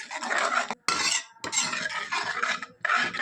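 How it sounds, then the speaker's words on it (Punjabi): Yogurt being stirred into an eggplant curry in a pan, a spoon scraping and swishing in bursts separated by short pauses, close and fairly loud with no voices. "ਹੁਣ ਦਹੀਂ ਪਾ ਦਾਂਗੇ ਇਹਨੂੰ ਮਿਕਸ ਕਰ ਲਾਂਗੇ ਚੰਗੀ ਤਰ੍ਹਾਂ"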